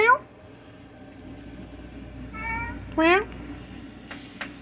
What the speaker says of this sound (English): Fatso, why are you in here meowing me?